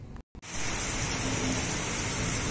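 Steady, loud rain pours down in an even, dense hiss after a brief pause at the start, with no voices over it.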